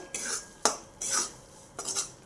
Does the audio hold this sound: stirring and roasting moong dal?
yes